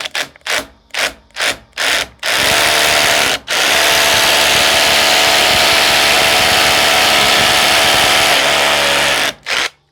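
Power drill boring holes into a wall to mount a retractable garden hose reel: several short trigger bursts, then a long loud continuous grinding run with a brief pause, close up and without talk.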